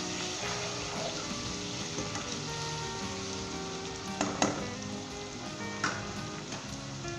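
Spices and salt added to mutton curry frying in a pot, a steady close sizzle with occasional scraping stirs and small clinks rising above it.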